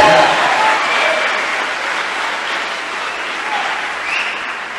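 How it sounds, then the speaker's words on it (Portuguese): A church congregation at a Sunday service applauds in a steady, dense wash of clapping, loud and sustained, with voices mixed in among the crowd. "Forte essa aplauso a Ele."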